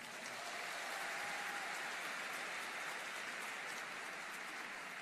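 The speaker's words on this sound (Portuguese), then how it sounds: "Pode aplaudir o seu batismo." A church congregation applauds during a Portuguese-language sermon in Boston, a steady wash of clapping that holds without a break and stays fairly far off.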